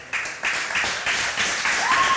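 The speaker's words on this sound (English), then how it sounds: "Give Don Hate a big round of applause as our second place League of Legends team" A crowd at a League of Legends gaming tournament awards ceremony breaks into applause for the second-place team, dense clapping that swells quickly and holds steady.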